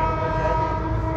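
Close and loud, a train horn sounds near Moradabad, India, with the train standing near Rampur, holding one steady, sustained tone for the whole moment.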